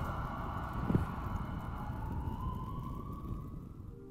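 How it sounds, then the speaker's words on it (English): Wailing emergency sirens sweep through a futuristic game city, New Zurich in 2143, as a steady continuous drone over dense low rumble, with a brief thud near the start. "It's a lot of sirens."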